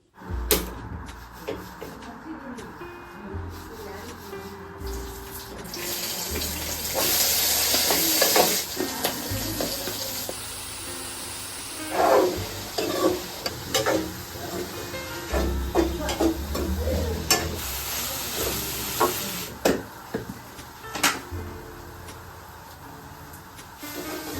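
Egg palya fries in a home-kitchen pan, a steady sizzle with frequent spoon scrapes and stirring clatter building through the middle and continuing to the end, with no talking.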